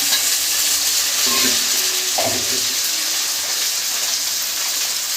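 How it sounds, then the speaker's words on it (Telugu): Onions and tomatoes fry in a pan in a home kitchen while being stirred, a steady loud sizzle with a couple of brief scraping stirs, close up and without speech. "ఎర్రగడ్డలు వేగినాక టమాటాలు ఉన్నాయి కదా ఇవి కూడా వేసేసుకొని"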